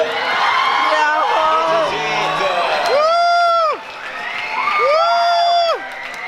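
A crowd at the IFSC Arco youth world championships climbing competition screams, whoops and cheers loudly in sustained rising bursts, with shrill children's yells standing out and an announcer's voice mixed in.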